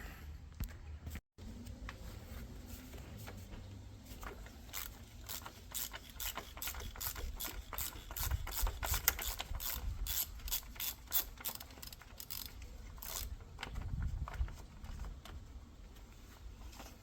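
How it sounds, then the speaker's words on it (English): A socket ratchet loosens the oil filter housing on a 2016 Volkswagen Jetta, clicking rapidly and repeatedly in close, fairly quiet bursts with a few brief pauses over about seventeen seconds. "Ratchet in there. Crank her out."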